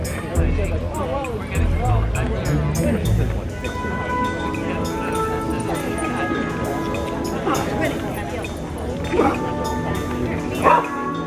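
Dogs on a large pack walk of about 81 dogs, including a Great Dane puppy, bark, yip and whimper throughout at middle distance, mixed with a person talking and general babble.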